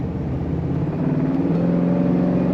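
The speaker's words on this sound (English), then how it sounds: "Lovely wrap to that exhaust when you get on the throttle" A 1964 Buick LeSabre four-door estate wagon pulls under throttle, its engine and exhaust giving a steady, loud rumble that rises slightly in pitch as it accelerates, heard from inside the moving car.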